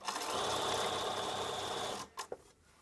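A sewing machine stitches a double-circle skirt with a steady, fast whirring hum for about two seconds, then stops, followed by a few small clicks.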